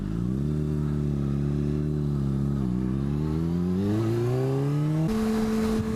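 Loud and close throughout, a motorcycle fitted with an aftermarket exhaust drones steadily, dips, then climbs through a rising rev before jumping to a higher held pitch.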